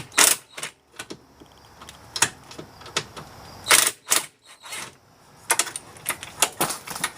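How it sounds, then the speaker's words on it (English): A ratchet wrench works on the rear differential of a Can-Am Outlander ATV, giving close, loud bursts of rapid metallic clicking in an irregular rhythm, separated by short pauses, with no talking. "Oop, and I got my wrench stuck."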